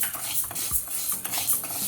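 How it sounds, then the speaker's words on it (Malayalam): Urad dal roasting in a pan while being stirred, the spoon scraping and clinking against the metal in a few quick, soft strokes, close by with no talk. "ഇനി കുറച്ച് ഉഴുന്ന് വറുത്തെടുക്കുകയാണ് കേട്ടോ"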